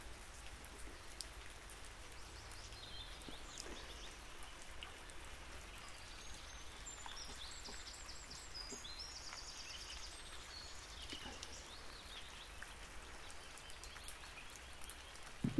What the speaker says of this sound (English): the rain's coming down again